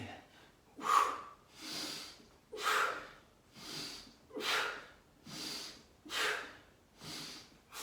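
Heavy rhythmic breathing during ab curls, with about seven strong exhale-inhale cycles that are close and forceful, alternating huffs and breaths at an even pace with no talk.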